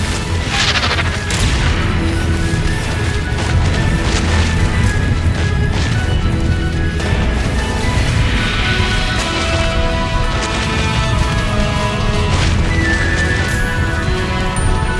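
Confringo blasting-spell explosions in Hogwarts Legacy, repeated heavy booms and crashes layered over dense, continuous combat sound and music, loud throughout with no clear pauses.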